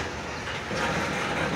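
A Norfolk Southern freight led by SD40-2 3362 backs into a rail yard, giving a steady broadband rumble of rolling cars with a faint clickety-clack that swells slightly midway, continuous and fairly close.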